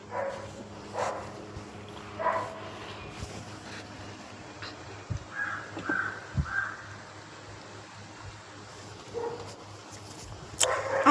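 A pet dog barks and growls in short, scattered bursts at moderate distance over steady low background noise, with a few louder outbursts near the end.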